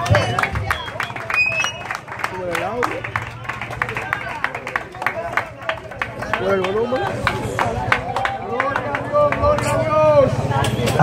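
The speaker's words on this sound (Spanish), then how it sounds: "denle un aplauso a Cristo" A church congregation at an evangelical worship service claps in a scattered, uneven rhythm under loud, continuous talking that dominates throughout.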